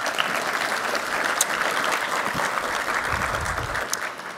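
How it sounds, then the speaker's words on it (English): Dense, steady applause from a conference audience at an immigration plenary session, sustained throughout at moderate level and tapering slightly near the end. "Please, let's go ahead and give them a round of applause."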